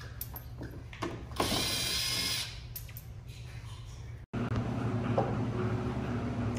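Ratchet working bolts loose from the underside of a 2016+ Chevrolet Camaro front bumper, a close mechanical clicking and whirring burst that pauses briefly, then resumes amid garage noise.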